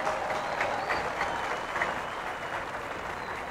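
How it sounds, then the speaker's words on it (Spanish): A hall audience gives sustained, even applause for coach Jairo Ruiz, trainer of young athlete Ángel Barajas, at a ceremony honoring teachers and coaches; the clapping is moderately loud and fills the room for several seconds. "para él también un fuerte aplauso, por favor."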